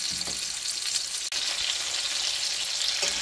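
A steak sears in a HexClad pan, a loud, steady broadband sizzle running throughout, with a brief sharp click partway and a soft clatter near the end.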